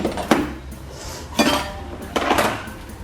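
Three separate bursts of clattering as small toy pots and dishes are handled and set down, each a brief rattle of clinks with quiet pauses between.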